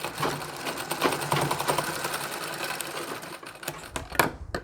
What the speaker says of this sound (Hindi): अब इसे उठाकर इस तरह से क्रॉस में सिलाई लगानी है।